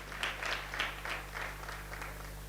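Theatre audience applauding a Kosli/Sambalpuri stage play at Bargarh Saukhin Rangmanch, with a rhythmic burst of clapping from a crowd, moderately loud over a steady low electrical hum.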